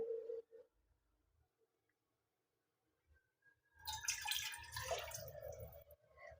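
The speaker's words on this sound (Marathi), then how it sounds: "मी एक वाटी पाणी ओतणार आहे" A short splash as a bowlful of water is poured into a pan of hot oil after a quiet stretch, with faint clinks and drips beforehand.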